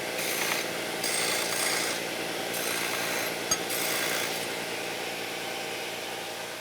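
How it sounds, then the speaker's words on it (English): A Porter-Cable B3 belt sander grinding on metal in a shop gives a steady, close rasping whir that keeps going throughout, with bursts of harsher abrasion and one brief knock partway through. "this sander could be used for either wood or metal"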